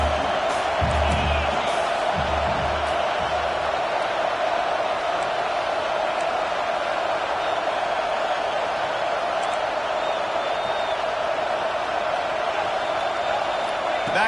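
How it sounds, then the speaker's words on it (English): A packed football stadium crowd roars loudly and steadily, a dense sustained wall of cheering with no break, with a commentator talking over it. "These fans are going absolutely nuts."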